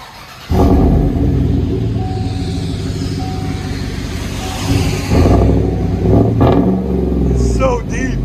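A 2018 Chevy Silverado 5.3L V8 with muffler, resonator and tailpipe cut off and a Vibrant bottle resonator fitted gives a loud, deep exhaust rumble. It starts abruptly and holds steady, with a swell of revving near the end and no one talking.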